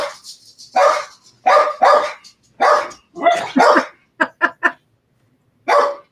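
Several dogs bark at a house door, loud, close and agitated, in uneven bursts of single and doubled barks with short gaps between them.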